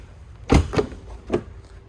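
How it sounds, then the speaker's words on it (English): A car door on a 2018 Mercedes C300 or 2019 Audi A4 shuts with a solid, close thunk, followed by a couple of lighter knocks and clicks. "it's a pretty solid thunk of the door"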